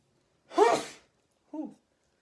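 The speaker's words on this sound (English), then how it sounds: "Sneeze. Maybe someone's talking about me." A single sharp sneeze rings out close by, followed a moment later by a softer, shorter vocal sound.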